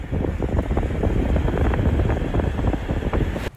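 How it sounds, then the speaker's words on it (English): Heavy wind buffets the microphone in a loud, rumbling, distorted roar that surges and churns without letup, close and boomy, with no one speaking. "Another example is wind."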